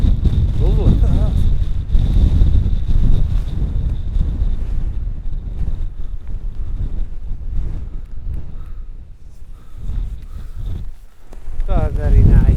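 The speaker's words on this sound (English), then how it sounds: "it's a constant battle with the wind" Strong wind buffets an outdoor landscape photography spot with constant loud low rumbling gusts, and people talk now and then over it.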